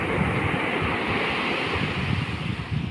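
Ocean waves wash onto a beach in a steady, full roar of surf, with wind buffeting the microphone throughout and no voices.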